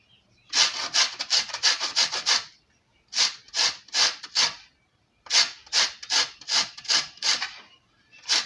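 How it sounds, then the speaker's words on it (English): An orange peel is scraped against a grater, making rhythmic bursts of crisp rasping strokes in three groups with short pauses between them. The scraping is close and clear, with no talk. "I'll start by scraping the back of the orange."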